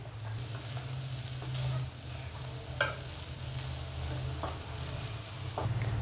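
Carrot thoran, a Kerala-style stir fry, cooks over a low flame as a spoon turns it in the pan, giving a soft, steady sizzle with a few light scraping clicks.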